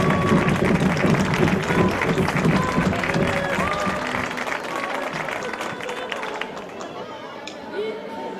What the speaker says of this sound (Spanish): fuerte el aplauso, tanto para Ana Belén